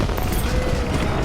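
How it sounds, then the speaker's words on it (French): Fireworks in the video game Shaq Fu, a loud dense crackling burst of rapid pops and booms filling the whole brief moment with no talk. "Les feux d'artifice."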